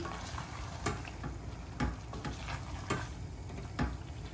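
Raw shrimp and tilapia fillet fry together in oil in a pan. There is a steady, close sizzle with regular light clicks of stirring every second or so.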